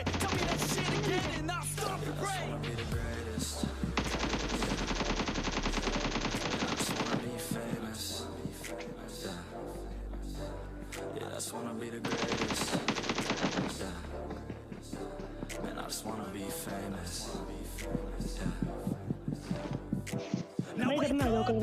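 UMP9 submachine gun with scope firing in a video game, with rapid automatic bursts and single shots repeating over a steady game soundtrack, with voices talking throughout.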